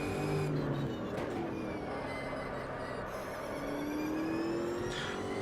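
The engine of an Ultima GTR race car in Automobilista revs and accelerates steadily through its gears, a continuous mid-level drone with rising pitch sweeps.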